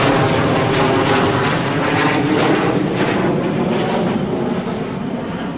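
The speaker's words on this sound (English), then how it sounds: "Coming up next, ladies and gentlemen, Captain Dale Snort Snodgrass, the T-6 Texan" A T-6 Texan propeller plane flies at an airshow, its engine a loud, steady, close drone that holds for several seconds with no talk over it.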